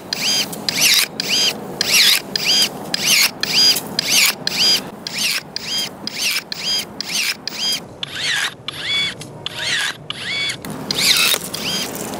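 A HiKOKI cordless 18V electric pole shear snips branches in a rapid series of about twenty short motorised bursts, each a whirring buzz ending in a cut, close and loud with no talk.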